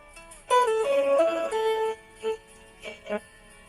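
A ringtone plays on a Symbian mobile phone, a short bright tinkling melody of clear tonal notes for about a second and a half, followed by a few separate single chimes, close and fairly loud.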